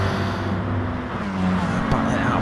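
Race car engines whine and drone during a GT Sport online race, including a Subaru slipstreaming in a battle for position, with a commentator talking over the steady motor noise.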